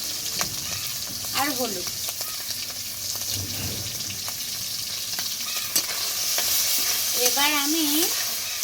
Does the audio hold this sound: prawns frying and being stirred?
yes